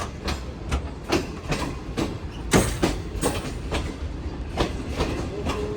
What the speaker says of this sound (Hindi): रहीम यार खान एंटर हो गई है हमारी ट्रेन